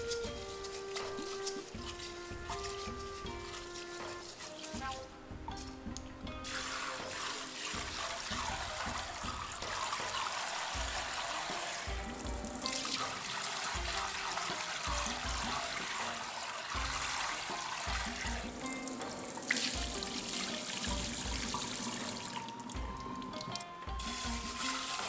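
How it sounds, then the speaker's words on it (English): Rice rinsed by hand under running tap water in a kitchen, a continuous splashing stream with sloshing and dribbling that changes as the grains are swirled, close and alone. "Rinse the rice with water. No soap, just water."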